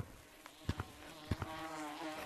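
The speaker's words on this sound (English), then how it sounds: "Hear the beehive." A beehive in the Gorilla Tag VR game gives off a faint insect buzz with a few soft clicks and thumps over it, heard alone and fairly quiet.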